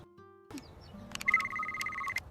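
An electronic phone ringtone chirps in a repeating melodic pattern at moderate volume after a brief tone, with faint background noise.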